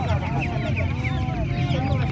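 Chickens cluck and chatter at a busy bird market. The calls come in quick overlapping bursts over a dense background of crowd noise, with people talking nearby.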